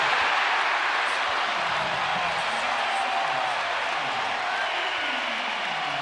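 Crowd at a college basketball game between Iowa State and Arizona, cheering in a sustained roar that fills the arena from start to finish at steady loudness.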